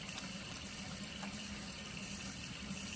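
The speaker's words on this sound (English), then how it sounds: "Once warm, rinse your hands, apply soap," Tap water running steadily over hands being rinsed at a sink, a constant close hiss with no voices.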